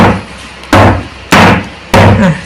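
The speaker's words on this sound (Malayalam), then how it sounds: "ടേപ്പ് ചെയ്യുമ്പോൾ ഇങ്ങനെ മേലേക്ക് ബബിൾസ് വന്ന് പൊട്ടിപ്പോവും, അതിലുള്ള എയർ പോകും കേട്ടോ." A cake tin filled with batter is tapped down on a surface three times, each a sharp, loud, close thud that fades quickly, evenly spaced about half a second apart.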